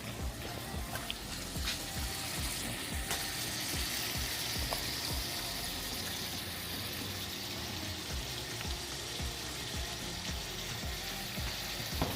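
A lamb chop fries alone in a pan, a steady close sizzle with crackling, spitting pops throughout and no talk.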